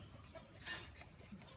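Chickens clucking in a farmyard, a few soft, scattered clucks rising over steady low outdoor background noise.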